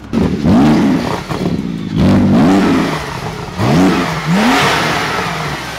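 A Porsche engine, just back running after repair, revs up hard in three or four loud rising surges, each climbing in pitch then dropping back, close and dominating with no talk over it.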